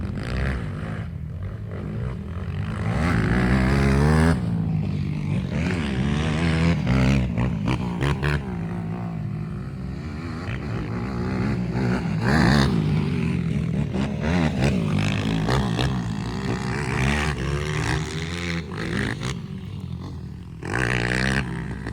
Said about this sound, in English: kind of neat watching the two quads run around the track